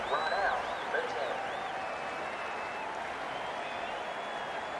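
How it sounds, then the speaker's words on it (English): Cricket 19 video game crowd applauding, a steady wash of clapping and cheering with whistles, loudest at the start and then settling to a constant background roar. "The crowd are loving this"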